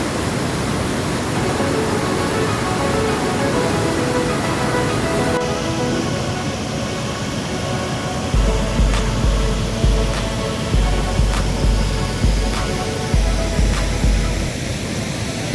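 The Kozhippara waterfall at Kakkadampoyil roars steadily and loud with a broad rushing wash, while low thumping bumps repeat through the second half.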